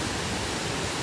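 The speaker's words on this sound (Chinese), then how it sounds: "所以叫做壶口瀑布" Hukou Waterfall on the Yellow River in Ji County, Shanxi, where a wide river squeezes into a narrow chute, gives a dense, steady roar of churning water, loud and close, with no voices.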